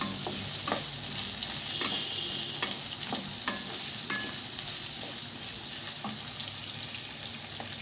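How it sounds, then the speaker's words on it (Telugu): Three large chopped onions fry in a pan for a dhaba-style soya chunk curry, with steady close sizzling. Repeated scraping stir strokes run through the sizzle, and no one speaks. "వీటిని కొంచెం ఫ్రై చేసుకుందాం."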